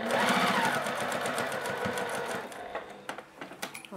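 A Juki TL-2010Q sewing machine stitching long basting stitches through quilt layers with wadding, a loud steady rapid whir and chatter that slows and stops into a few separate clicks near the end.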